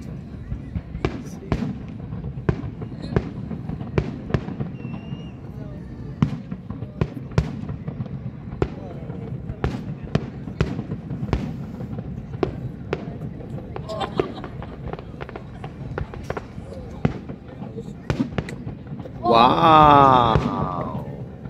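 Fireworks pop and crack in an irregular stream of sharp bangs at a distance over Waikiki Beach, with a crowd murmuring and people talking throughout, louder cheering near the end.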